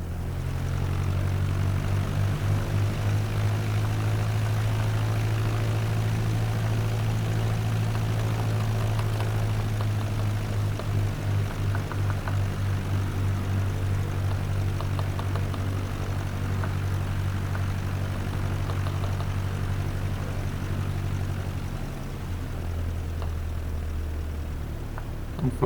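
A propeller aircraft in a flight simulator game taxiing toward the runway holding point, its engine droning steadily at a low idle-like hum throughout before easing off near the end, with no talking.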